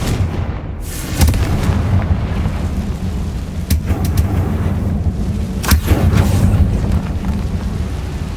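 Confringo fire spell in Hogwarts Legacy, a rumbling burst of fiery explosions with several sharp cracks and booms over a roaring low background, loud and close, no talk.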